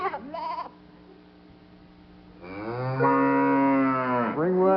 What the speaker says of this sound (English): The third one, the cow.